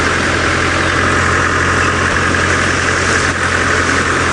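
A safari vehicle engine runs steadily at low revs in low gear, a constant loud rumble with no voices.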